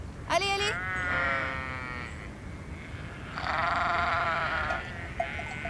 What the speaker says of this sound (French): Moukades, un mouton s'est échappé.